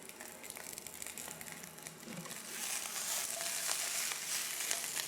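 Leafy greens with thick stems removed sauté in hot oil in a pan, a steady crackling sizzle with crinkly tossing noises that grows louder and denser partway through, with no talking.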